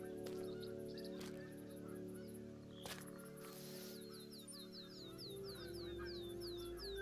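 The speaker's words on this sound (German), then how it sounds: "Ich höre Gänse, Gänse." Distant geese honking in a hunting video game's outdoor reserve, a run of repeated calls rising late in the clip over a steady low ambient bed and faint background sounds.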